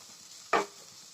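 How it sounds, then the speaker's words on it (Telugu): A single quick stir of bitter gourd frying in a pan, a brief scraping sizzle that rises and fades over a faint background. "ఒకసారి అట్లా కలిపెట్టి మధ్య మధ్యలో తిప్పుతూ ఉండాలి"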